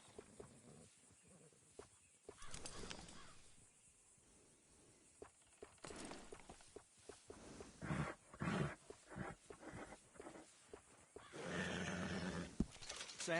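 A horse in the Red Dead Redemption video game whinnies and snorts in a few scattered bursts against quiet ambient background, with soft hoof movement between calls.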